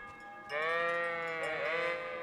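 Sheep bleating in the medieval video game Kingdom Come Deliverance, a single loud, sustained, wavering bleat starting after a quiet lead-in and holding to the end.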